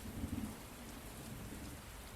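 In a Unity video game, steady rainfall patters under a low rolling rumble of thunder near the start, the whole scene faint and continuous.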